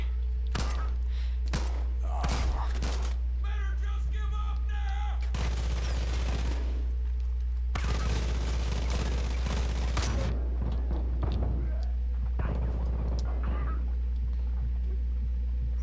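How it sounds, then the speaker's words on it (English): Gunfire in the Far Cry 5 video game, with a sniper among the shooters: bursts of loud shots and rattling volleys come in clusters, some sustained for a couple of seconds, over a steady low drone, with occasional voices. "who's shooting me?"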